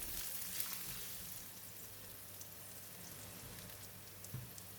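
Garlic and ginger fry in heated cooking oil for braised pork with bitter gourd, a faint, continuous crackling sizzle with a few small pops, heard alone.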